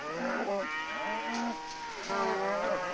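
Cattle mooing repeatedly beside a highway in New Zealand's South Island as they are driven to new grazing, several drawn-out low calls overlapping one another, fairly close and loud with no talking.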